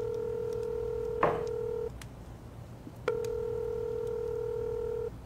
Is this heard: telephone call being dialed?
yes